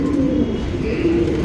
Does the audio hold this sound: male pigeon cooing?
yes